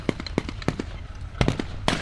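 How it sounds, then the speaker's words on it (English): An American mortar fires blanks during a WW2 battle reenactment at Tank Fest 2025, a series of sharp, fairly close bangs and pops arriving irregularly over about two seconds. "Now, we've got an American mortar firing on the Germans."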